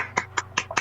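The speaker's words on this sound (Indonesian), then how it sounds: "Tepuk tangan untuk kelompok 2 ya." In a classroom, a student group receives applause as four sharp, separate hand claps sound at a slow, even pace, close and moderately loud with no voices.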